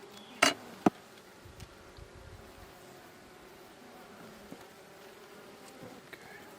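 Honey bees buzzing steadily around an open hive during a July inspection, a low continuous drone with a couple of sharp handling knocks early on.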